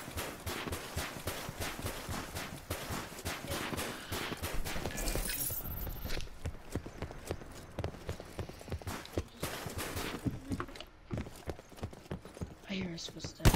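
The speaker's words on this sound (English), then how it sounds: "I hear a footstep." Footsteps in a video game, a rapid run of clicking, clopping steps close up, mixed with game effects and occasional voices.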